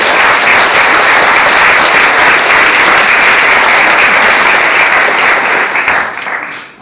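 Wedding guests applauding at Redworth Hall, a loud, dense, sustained round of clapping that holds steady for several seconds before tapering off at the end.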